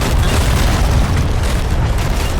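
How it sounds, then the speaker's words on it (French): Heavy cannon fire from the Sea of Thieves video game, a continuous deep booming rumble that stays loud and dense through the whole clip, with no talk over it. "Il voit des canons, il s'en sert."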